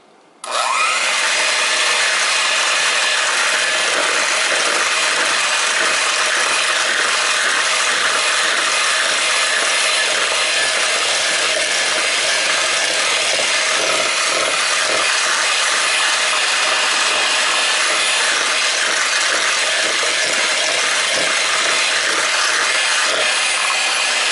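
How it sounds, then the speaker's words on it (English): A KitchenAid electric stand mixer starts abruptly and runs loud and steady, whirring and rubbing through Jell-O cookie dough for over twenty seconds with no voices. "we're going to use the electric mixer, and we're just going to mix it up until it's light and fluffy"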